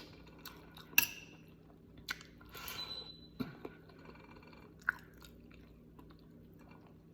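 Quiet chewing and biting while eating a lunch of pork menudo made with loin, with scattered soft clicks and crunches of cutlery and dishes over a low room hum.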